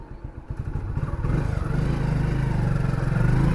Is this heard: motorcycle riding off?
yes